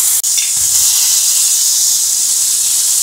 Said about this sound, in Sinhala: බටර් ටික පොඩ්ඩක් මේ විදිහට දිය වෙනකොට